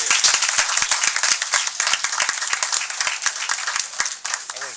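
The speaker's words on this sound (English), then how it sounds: "Let's clap again here." Applause at a city board of aldermen meeting: many hands clapping in a dense, steady patter of sharp claps, loud and close, with no talking.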